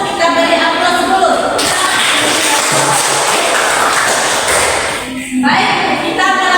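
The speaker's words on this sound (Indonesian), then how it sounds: "Untuk penampilan kelompok 1 kita beri aplaus dulu." A classroom audience applauds group 1 after its presentation: dense, steady clapping close by for about five seconds before it tapers off, with a few voices mixed in.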